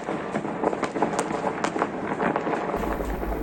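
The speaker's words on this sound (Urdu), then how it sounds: "آتش بازی تو ہو رہی ہے مگر ہوائی فائرنگ بھی آپ دیکھ سکتے ہیں۔" New Year fireworks mix with celebratory gunfire into a dense, continuous crackle of sharp pops and bangs, some louder cracks standing out over a rumbling wash of distant blasts.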